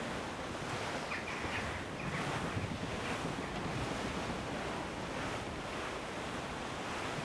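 Strong wind and rushing ocean waves roar steadily and loudly while a sailing ship moves at sea in the pirate game Assassin's Creed IV, with gusting wind noise throughout and no talk.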